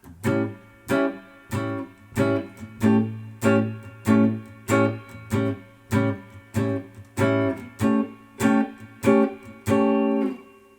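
Blues guitar strums back and forth between two chord shapes in a steady rhythm, about fifteen short strummed hits with brief gaps, played close and alone.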